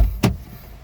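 A single brief whir from the power window of a 2024 Suzuki Ertiga GL 1.5L hybrid, heard close up inside the car as one short burst that quickly fades.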